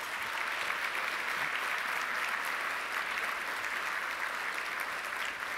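A conference audience applauding, a dense sustained wash of many hands clapping at an even level from start to finish, steady and full, with no pauses or individual claps standing out.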